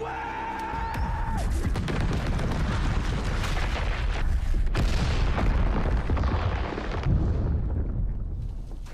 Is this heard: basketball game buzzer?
no